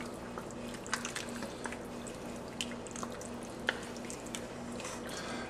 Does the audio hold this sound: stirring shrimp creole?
yes